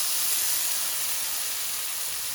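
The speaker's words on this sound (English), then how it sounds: "now I'm gonna blend our sauteed ingredients" A blender runs steadily on sauteed ingredients, producing a loud, constant high-pitched whirring hiss close by, no voices.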